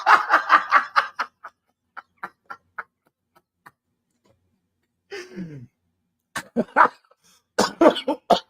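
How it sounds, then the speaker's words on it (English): Someone coughs into a microphone, close and loud, in short bursts of coughs and throat clearing with brief pauses between them. "I don't mean to be coughing on the mic"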